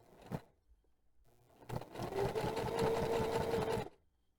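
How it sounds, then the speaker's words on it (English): A sewing machine stitches an ID card holder in one steady, close run lasting a couple of seconds, preceded by a brief click and handling noise, with no talking. "I'm going to sew this together really quick."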